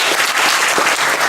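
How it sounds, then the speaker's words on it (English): An audience at a university debate event applauds the debaters, a loud, dense burst of many hands clapping continuously with no talk over it. "Can we just get another round of applause for them?"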